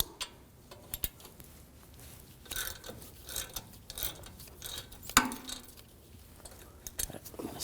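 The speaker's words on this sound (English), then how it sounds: "Now I'm going to use a 7mm hex socket. And loosen these slide pins up." A ratchet with a 7mm hex socket loosens the front brake caliper slide pins on a 2006-2009 Audi S4 4.2L V8, giving scattered, quiet, irregular clicks over a faint background of workshop noise.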